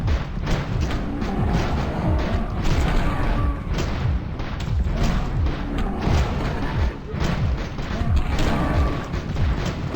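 Grenades explode one after another in a zombie shooter video game, a dense, loud run of booms and crashes that barely lets up for the whole stretch.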